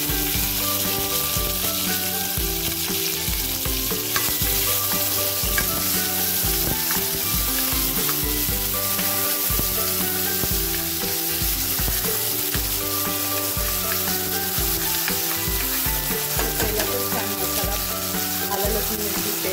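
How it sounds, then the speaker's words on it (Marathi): Ginger, garlic and chili paste sizzles and fries steadily in hot oil for a pulao, a loud, continuous crackle with occasional stirring and no talk. "मिरची पेस्ट आहे ती परतून घ्यायची आहे"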